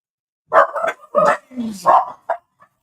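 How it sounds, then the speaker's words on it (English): Two or more dogs bark excitedly in a quick, uneven burst of several loud, close barks, with a short yip at the end. "We said hello to Ronald, so the dogs went crazy."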